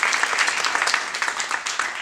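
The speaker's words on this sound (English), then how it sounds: "And I just want us to give them a round of applause." Audience applause for a campaign team at the Tom Mann Theatre: a brief burst of dense, even clapping from a seated crowd, continuous and fairly loud throughout.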